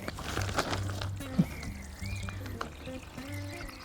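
Water is poured over freshly planted melons in a garden bed, a soft, faint trickle and splash that comes and goes over a few seconds against a low background hum.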